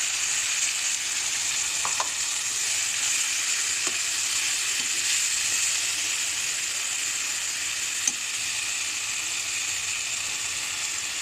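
Onions, tomato, ginger and garlic paste fry in a pan for a jackfruit and country chicken curry, giving a steady, even sizzle that carries through with a few soft stirring clicks and no talk.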